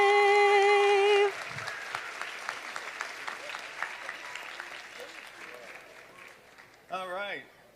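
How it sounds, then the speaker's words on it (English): Applause from a school board meeting audience follows a live national anthem performance, steady mid-level clapping from a seated crowd that fades gradually. A held sung note comes at the start and brief voice sounds come near the end. "Once again, a round of applause for Sarah."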